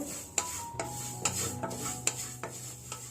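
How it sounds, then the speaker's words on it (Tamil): Half a cup of semiya vermicelli dry roasting in a pan, stirred with a utensil that scrapes and taps the metal roughly every half second over a faint dry crackle. "ஒரு அரை கப் சேமியா தான் இருக்கும், அதை நல்லா ட்ரை ரோஸ்ட் பண்ணிக்கலாம்"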